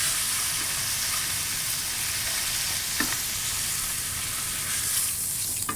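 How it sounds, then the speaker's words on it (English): Steak sears in a hot pan with a steady, dense sizzle and crackle throughout, close and fairly even, with a few sharper pops near the middle and end and no talking over it. "You want all sides to get nice and crispy."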